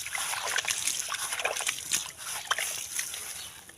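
Water is poured onto freshly planted lemongrass in soil, a few seconds of close splashing and trickling with irregular spattering bursts.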